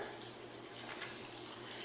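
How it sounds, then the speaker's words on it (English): Water pours from a container into a blender of chipotle corn chowder soup ingredients, a short, steady, faint gushing splash lasting under two seconds, alone without talk. "So we're going to add our water here."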